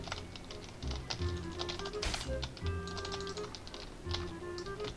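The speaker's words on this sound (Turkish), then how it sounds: "Klavyenden çok sesler geliyor." Rapid computer keyboard typing during an online Murder Mystery 2 game session, with dense, continuous clicky keystrokes close to the microphone alongside faint background game sounds.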